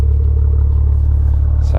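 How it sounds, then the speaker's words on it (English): A car's exhaust switched into sport mode gives a loud, steady low rumble close by, holding an even drone for nearly two seconds before a brief higher burst at the end. "It makes the exhaust louder."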